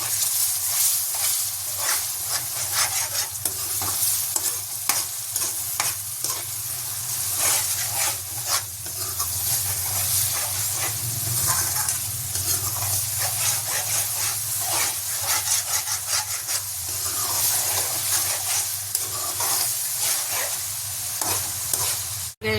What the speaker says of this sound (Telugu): అల్లం వెల్లుల్లి బాగా వేగిందండి.